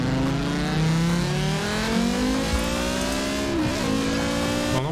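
Audi car accelerating in Forza Horizon 4, a loud close engine climbing steadily in pitch through the gears, with a brief dip at a shift before rising again, no talk.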